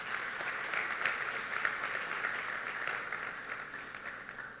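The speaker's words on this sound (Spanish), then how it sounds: "Vamos a darle un fuerte aplauso a todos ellos." A church congregation claps in a steady, moderately distant round of applause that stays even throughout.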